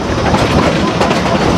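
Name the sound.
Cumbres and Toltec scenic railroad train running on the rails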